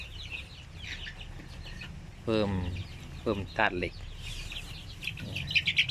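Chickens on a small Songkhla farm cluck softly while pecking at a feed of broken rice mixed with shrimp husks, with faint scattered calls under someone talking in Thai.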